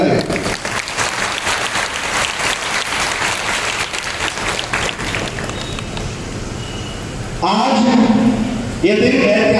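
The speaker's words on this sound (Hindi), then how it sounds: "फर्रुखाबाद के राजा महाराजा सभी लोग ताली बजाकर उनका स्वागत करें" A crowd at a Bahujan Maitri Sammelan political rally in Farrukhabad, Uttar Pradesh, claps in welcome, with thick, steady applause for about seven seconds that fades as a speaker starts on a loudspeaker.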